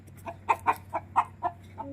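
A hen clucks in a quick series of about seven short, throaty calls, close by, over a low steady hum.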